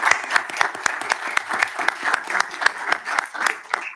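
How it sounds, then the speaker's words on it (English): Applause from a conference audience for an energy infrastructure panel, with individual hand claps clearly separated in a brisk, even rhythm over a thinner bed of clapping, fairly close and moderately loud. "join me in applauding our panel for the excellent discussion that we have"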